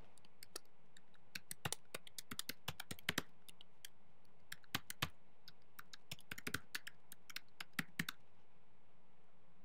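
Irregular clicks of typing on a computer keyboard, close and crisp, in short bursts separated by brief pauses, with no talking.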